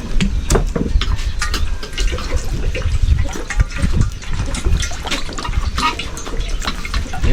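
Soy sauce and seasoning being poured into food while cooking, a continuous splashing, sizzling liquid sound with close, busy textures throughout.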